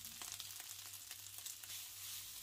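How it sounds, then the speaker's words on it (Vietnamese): Cooked rice frying in very hot oil for fried rice gives a soft, continuous crackling sizzle with scattered pops and light stirring, quiet and close with no talking. "Để cho dầu thiệt là nóng thì mình cho cơm vô và mình để yên cơm như vậy cho cơm nó được cháy cạnh."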